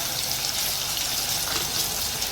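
Chopped onion frying in a pan with mustard seeds and cumin makes a steady, fairly loud crackling sizzle, close and continuous with no clear breaks. No voices are heard.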